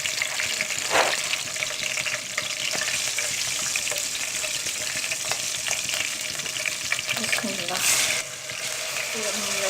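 Curry leaves dropped into hot oil in a pan for Hyderabadi green bagare baingan, crackling and sizzling steadily and close up, with stirring scrapes and a few louder spatters.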